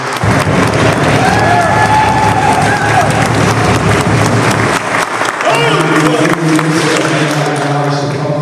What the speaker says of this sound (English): just a round of applause for the fantastic work that Runstrom has been doing in coordinating